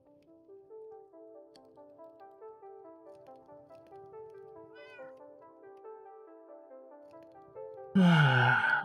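A cat in a Minecraft game lets out a long, drawn-out series of plaintive meows with rising and falling pitch, then a sudden loud, harsh yowl at the end, with no talk.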